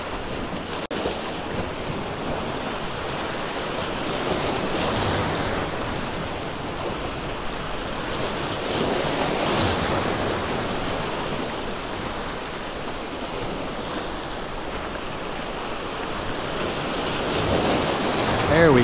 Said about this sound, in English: Water's a lot rougher over here on this side.